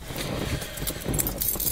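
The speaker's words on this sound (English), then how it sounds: "If I can find my car keys." Car keys jangle in short metallic bursts, fairly close, with a faint vehicle or engine rumble underneath and no talking.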